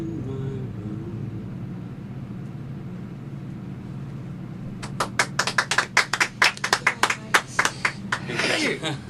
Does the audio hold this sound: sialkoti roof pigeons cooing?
no